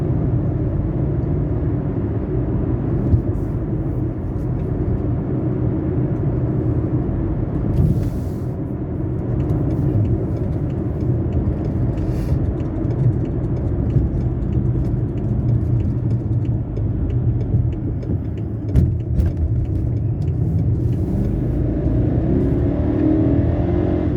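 A 2007 BMW 650i in sport mode accelerates hard up an on-ramp, its engine a loud, continuous rumble with steady road and wind roar that holds for the whole stretch with no voices.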